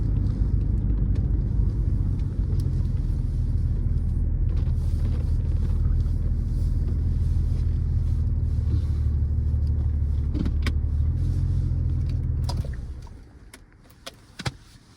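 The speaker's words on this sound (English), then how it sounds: "that was a test drive of our 1997 993 Carrera" A 1997 Porsche 993 Carrera Cabriolet Tiptronic driving, a steady low engine and road rumble from inside the car that cuts off abruptly near the end, leaving a few faint clicks.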